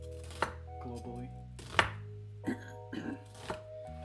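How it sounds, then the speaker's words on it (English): Knife chopping onions into large pieces on a board, about six distinct sharp thunks at irregular intervals, close, with quiet gaps between cuts. "I'm just gonna cut the onions pretty large"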